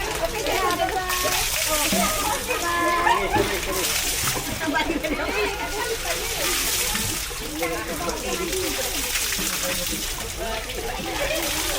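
Splashing in a cool freshwater pool on Redang Island, with continuous sloshing and splattering water close by and children's and adults' voices talking and playing throughout.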